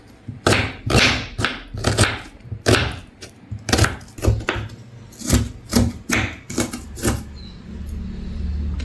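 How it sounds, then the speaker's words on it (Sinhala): A knife chops onions on a cutting board for potato milk curry, with a steady series of sharp, close knocks in an uneven rhythm, roughly a dozen cuts. "දැන් මම ලුණු ටික කපලා දාගන්න තමයි හදන්නේ හොද්දට."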